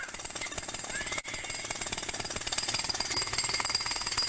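Pneumatic drill (jackhammer) hammering steadily, a loud, dense rapid pounding that runs continuously with one brief break, heard alone without talking.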